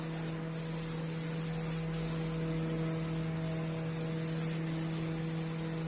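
A low-pressure spray gun fed by a compressor sprays paint onto an Essex V6 engine part from a Ford Zephyr, a steady close hiss over a constant compressor hum, with brief pauses between passes.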